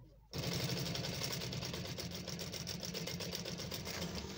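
A sewing machine starts abruptly and runs at a steady, rapid clatter while stitching the front placket of a garment, close and continuous throughout.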